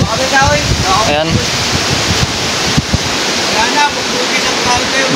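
A deep, flooded river rushes loudly in a continuous roar, with wind buffeting the microphone and voices speaking over it.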